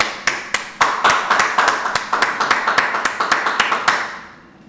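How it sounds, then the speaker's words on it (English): Audience clapping at a Harlem street teaching gathering: a loud, brisk run of sharp hand claps, fairly close, in uneven rhythm for several seconds before trailing off, with no voices over it. "let's clap it up"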